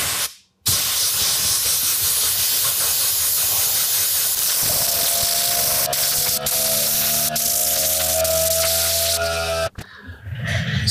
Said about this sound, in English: I've got an air compressor, it's at about 100 PSI. And so I'm going to blow this dust off of these switches.